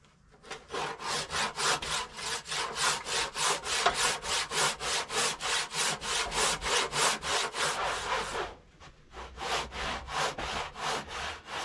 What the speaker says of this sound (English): Sawing wood down the length of the grain like this is an absolute nuisance.